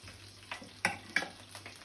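Chicken frying in a pan, a soft continuous sizzle broken by a few sharp scraping stirs of a utensil, close and fairly quiet with no talking.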